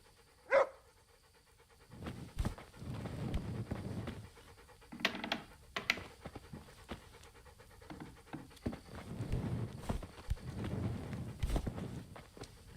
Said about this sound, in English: You stupid fucking dog.